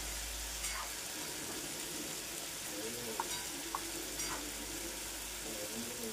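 Spice masala with turmeric sautés in a pan for an egg korma made with coconut milk, giving a constant close hiss of frying broken by a few light clicks of stirring.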